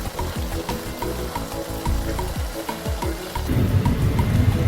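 Habanero pepper sauce sizzles and fries steadily in hot oil in an open pot, with a constant crackle, occasional soft stirring knocks, and the bubbling growing a little louder toward the end.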